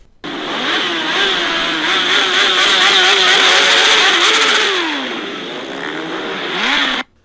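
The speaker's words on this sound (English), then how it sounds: "then they all began to rev their engines at the same time" About fifteen motorcycles in a gang revving their engines together, a loud sustained roar with rising and falling pitch for several seconds before cutting off abruptly.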